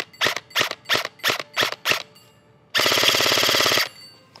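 Specna Arms CORE airsoft electric gun firing 0.20 g BBs from an 11.1 volt LiPo at a 6-inch steel plate 50 feet away: six evenly spaced single shots with plate pings, then a fast full-auto burst of about one second.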